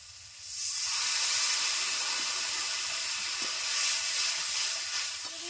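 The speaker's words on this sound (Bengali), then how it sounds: "দিয়ে দিচ্ছি একটু জল।" Water poured into a hot pan of fried onion and garlic sets off a loud, steady hissing sizzle that rises quickly after the first second and holds, with faint small pops underneath and no talking.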